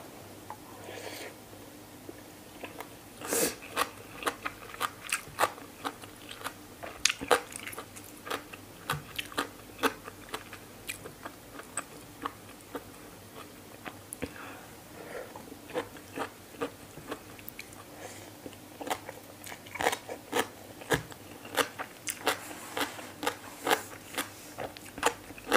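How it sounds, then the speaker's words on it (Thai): Crunchy bites and chewing of raw vegetables such as radish and bamboo shoots with a spicy Thai papaya-style salad, close and crisp, in an irregular run of sharp crunches over about twenty-five seconds with no talk. "เสียงดังขออภัยนะคะกรุบกรุบ"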